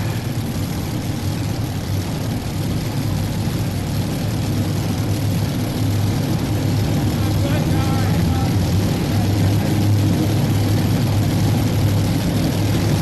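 A modified tractor-pulling machine at the starting line keeps up a continuous, heavy, loud engine roar, with an announcer's voice running over the top.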